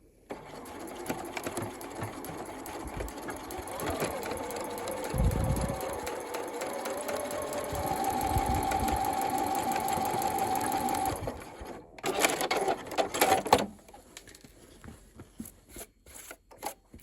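A domestic sewing machine runs in long continuous bursts while stitching a lapped zip into a garment at standard stitch length, with a steady whirring hum, a brief pause and a few short choppy runs at the end, fairly close and without talk.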